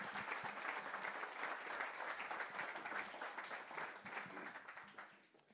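An audience at a tech talk on artificial intelligence gives the panel a round of applause, steady full clapping from a moderately distant crowd that tapers off at the end.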